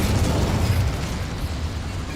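The Incendio fire spell goes off in the video game Hogwarts Legacy as a loud, close, sustained fiery blast with a heavy low rumble that fills the whole moment.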